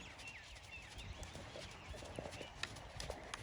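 A small eventing horse, suited to 80cm competition, clip-clops along at a steady rhythm while being ridden on the flat, its hooves moderately close, with faint bird chirps in the background.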